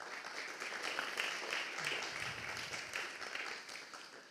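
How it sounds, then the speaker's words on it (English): A conference audience applauds the organizers before a tech talk, a soft, distant wash of many hands clapping steadily and evenly throughout, heard faintly as if from across a large hall. "I just would like to ask for another round of applause for the organizers"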